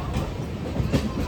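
A Santragachi–Chennai AC express train rumbles nearby with a steady low rolling roar and faint clattering of wheels on rails, heard alone without talk.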